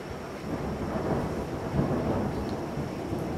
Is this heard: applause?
no